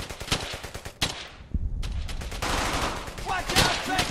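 Bursts of StG assault rifle fire rattle through a firefight in Brothers in Arms: Hell's Highway, fast repeated cracks layered with other gunshots, loud and close, with a short lull midway before the shooting resumes.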